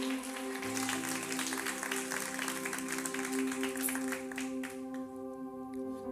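A church congregation claps steadily for several seconds, a dense wash of applause over a sustained keyboard chord, moderately distant.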